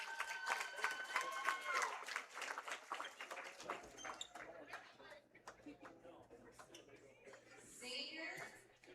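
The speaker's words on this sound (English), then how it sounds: "Let's give a big round of applause for senior basketball player Lane Johnson." A gym crowd at a high school senior night applauds a senior basketball player, with scattered claps and cheering that rise and fall, while people chatter and footsteps sound nearby in a reverberant hall.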